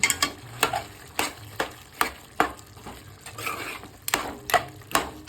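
A spoon stirs mutton curry with ginger in a frying pan. Sharp, regular scraping strokes come roughly twice a second over a soft sizzle, close by, with no voices.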